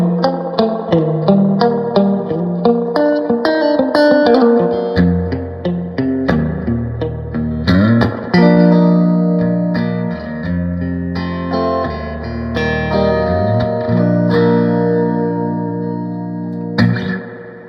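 An electric guitar plays through a '65 Princeton Reverb Reissue amp with the reverb set at 5, strummed chords and picked notes ringing out with a lush, lingering tail, loud and alone without talking.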